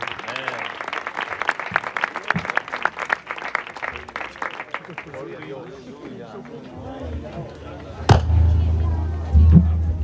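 Church congregation applauding at an evangelical campaign service in Villaverde, dense clapping filling the first several seconds before thinning into murmuring and voices, with a loud thump and low rumble near the end.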